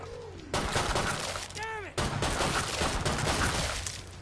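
A nail bomb goes off in the video game Killing Floor 2, a loud burst of blasting and shattering debris amid chaotic combat noise, with a player's voice briefly audible.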